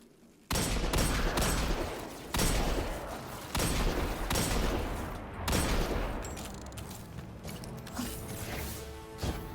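Threaded Needle weapon firing in Destiny, a video game: loud bursts of shots starting abruptly, with several distinct volleys and rattling mechanical clatter between them, no talk.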